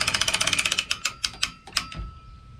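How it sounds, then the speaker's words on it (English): A boat trailer winch ratchets under tension in a quick, even series of sharp metallic clicks, then slows to a few spaced clacks and ends with a dull thump, heard close with no talk. "put a little tension back on the winch"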